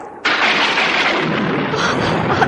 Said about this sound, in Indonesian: Loh, nampaknya akan ada badai besar. Lihat, awan hitam bergulung-gulung.